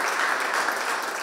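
Sustained applause from people standing in a city council session hall at Konin's town hall, dense and steady clapping throughout at close range with no gaps.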